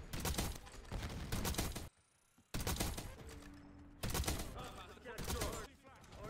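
Rapid gunfire from Black Ops 6 multiplayer sniping, dense loud bursts of shots in several stretches with a brief quiet gap, close and prominent, with voices talking faintly underneath.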